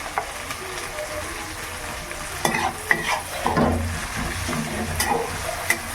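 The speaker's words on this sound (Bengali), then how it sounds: "বাকি তেলের মধ্যে আরেকটু তেল অ্যাড করে দিয়ে দিলাম কুচনো পেঁয়াজ, কাঁচা লঙ্কা কুচো," Chopped onion and green chilli fry in oil in a pan, a steady close sizzle with occasional stirring scrapes and clatters, no talking.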